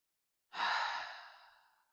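A single long, breathy exhale during a slow yoga practice, rising suddenly and fading smoothly over about a second and a half, close and soft with no talking.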